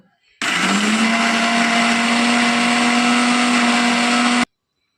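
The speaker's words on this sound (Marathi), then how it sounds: "आता आपण मिक्सरमधून छान बारीक वाटून घेऊ" Mixer grinder running at full speed grinding a cooled, sautéed masala paste, a loud steady motor whine starting abruptly and cutting off after about four seconds.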